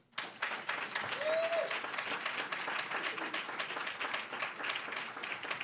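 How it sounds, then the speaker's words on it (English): Students at a scholarship donor event give a short round of applause, a dense patter of many hands clapping steadily at moderate volume, with a brief voice heard early on. "If you are a student and you appreciate a donor this morning, will you give a little round of applause?"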